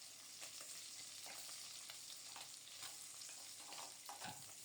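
Egg frying in a pan gives a soft, continuous crackling sizzle, faint and steady, with a few light scrapes.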